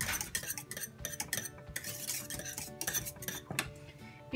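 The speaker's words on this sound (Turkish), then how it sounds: "Soğuyana kadar bu şekilde ara ara karıştırıyorum kabuk bağlamaması için" Cooling pastry cream for profiteroles and eclairs is stirred in a pot, quick metallic spoon scrapes and clinks against the pot's sides in an irregular rhythm, close and fairly quiet, no talking.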